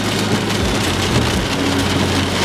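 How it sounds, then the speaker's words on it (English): Heavy storm rain pours steadily and loudly during a storm chase, a dense continuous hiss with low rumbling underneath, close by and without pause. "There's a mean looking rain shaft just behind me."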